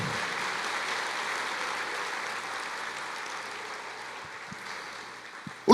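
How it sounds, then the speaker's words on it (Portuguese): A church congregation claps together in a long, steady wash of applause that slowly fades over several seconds, with a sudden louder burst right at the end. "Você pode aplaudir o Senhor, igreja?"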